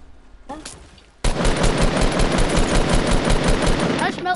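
Loud, sustained automatic gunfire rattles in a multiplayer shooter game, erupting suddenly after a quieter opening second and hammering on in rapid steady bursts until near the end.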